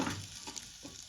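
Cumin seeds, chili and curry leaves dropped into hot oil for khichdi, a close, steady crackling sizzle with small pops, brief and fairly quiet.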